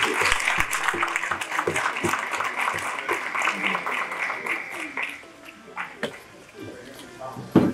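An audience applauds the honorees at the Onyx Men of Honor 2024 event, scattered claps close by while a voice talks over them and the clapping thins out toward the end.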